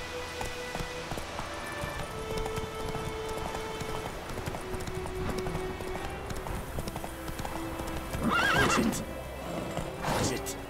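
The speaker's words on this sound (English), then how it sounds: "Run, Roach." A horse gallops with rapid clip-clop hooves and lets out a whinny near the end in The Witcher 3 gameplay, under a continuous bed of game ambience and music with short spoken commands.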